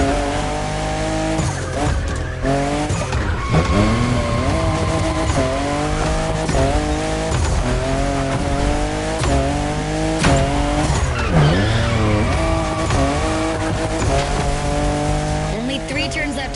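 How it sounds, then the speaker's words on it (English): A Toyota Supra, fifth generation, races in The Crew Motorfest, its engine droning steadily with sharp tire squeals as it corners. Loud game music plays throughout the run. "With what Toyota did with this new Supra,"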